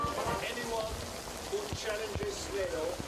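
Heavy rain falling in Vilnius, a dense, constant wash of drops hitting the ground and surfaces, loud and close, with muffled voices or movement faintly underneath.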